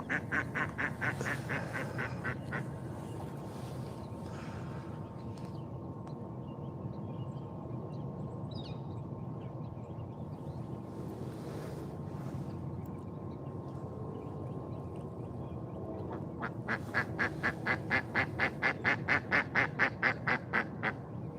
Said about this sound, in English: Miss Amy, that duck is laughing about Slushy.